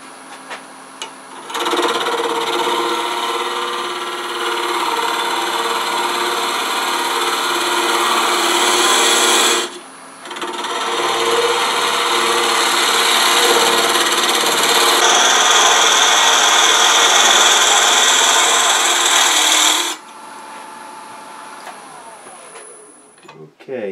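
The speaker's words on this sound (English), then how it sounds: "we're going to hollow out from the center" A wood lathe hollows out the center of a pedestal box, giving a steady rubbing, scraping cut in two long passes with a brief break between, close and loud.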